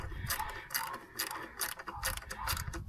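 A cheap cut-down wrench ratcheting while ignition coils are replaced, a quick series of close clicking ratchet bursts in an uneven rhythm with a voice faintly in the background.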